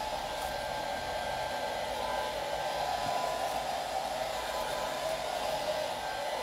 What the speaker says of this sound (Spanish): todo con secador de pelo le vamos a dar